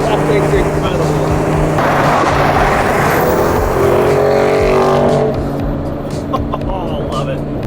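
An Audi rolls up in a parking area with a loud, rumbling engine drone that holds steady and then eases off, close by, with someone talking over it.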